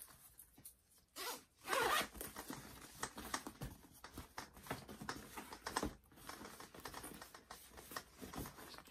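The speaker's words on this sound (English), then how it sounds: "zip it up." A zipper is pulled shut along a handmade Violetta fabric bag during sewing, giving close, quick rasping bursts with a louder pull near the start, followed by steady scratchy zipping with no talk.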